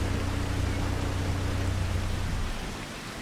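Steady rain in the farming game Farming Simulator 22 hisses as a dense, even wash of noise with a low hum underneath, thinning slightly near the end, with no talking.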